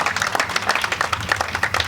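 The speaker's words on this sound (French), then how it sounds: "Les applaudissements du public de la sphère." Applause from a bowling crowd in an arena during a QubicaAMF Masters Series event, a steady burst of clapping throughout the short stretch.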